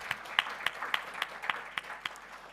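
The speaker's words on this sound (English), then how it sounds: "I'd like us all to give us a big round of applause for the very engaged." Light applause at a UNESCO symposium: a few people clap in a sparse, regular rhythm, with each clap separate and fairly quiet.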